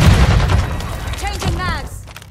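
Loud, dense gunfire and booming explosions from a Modern Warfare 2 Hardpoint match on Crown Raceway, with a TAQ 56 rifle in play, rolling continuously through the clip with a radio-style voice callout over the battle.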